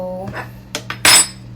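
A knife cuts fruit directly inside a bowl while making a piña colada smoothie bowl, giving a few short clicks and taps, then a louder scraping chop near the end, close and alone with no talk.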